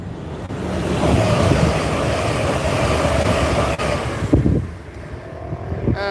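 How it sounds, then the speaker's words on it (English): An express train passes through Peterborough station from the south. It makes a loud, close, sustained rumble and roar for several seconds that then drops away sharply, leaving fainter station ambience with a few squealing tones. "we have got an express train now coming through"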